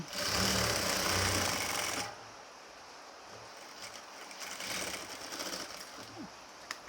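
A sewing machine stitches nighty fabric in a loud two-second burst close up, then stops, leaving a quieter room with faint rustling handling.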